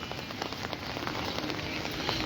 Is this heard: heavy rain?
yes